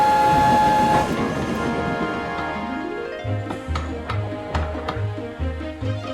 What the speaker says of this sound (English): The two streamlined engines raced across the mainland to get to the Channel Tunnel in Folkestone.